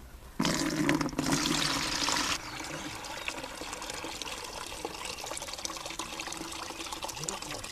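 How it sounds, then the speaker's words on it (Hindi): Water drains off soaked kidney beans into a bucket, a loud rushing pour for about two seconds that then drops to a softer, steady trickle. "देखो पानी पसबै छियै ने"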